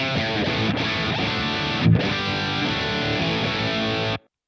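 A heavily distorted electric guitar plays through a Positive Grid Spark Insane amp model with the gain and bass turned down slightly. It holds one steady, sustained chord wash with a brief accent near the middle, then cuts off cleanly.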